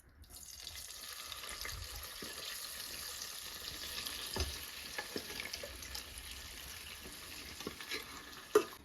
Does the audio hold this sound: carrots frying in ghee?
yes